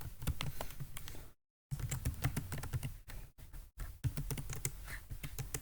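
Steady, quick keystrokes on a computer keyboard as records are entered into a database, with close clicky taps broken by a few brief pauses and no voices.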